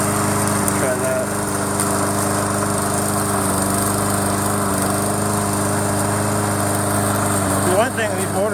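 Electric motor of a remote control lawn mower running steadily with a constant buzzing whine and a brief pitch change near the end.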